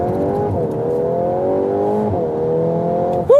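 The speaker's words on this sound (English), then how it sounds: "That was 0 to 100 kilometers acceleration" An eighth-generation VW Golf R accelerates hard from 0 to 100 km/h: a loud, steady engine drone climbs in pitch and briefly drops at two gear shifts, heard from inside with no talking.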